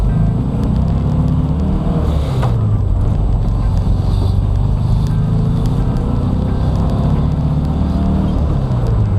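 1972 VW Bus engine, fuel injected and converted to carburetors and running overly rich, heard from inside while driving: a steady low droning rumble with road and wind noise, constant and loud throughout.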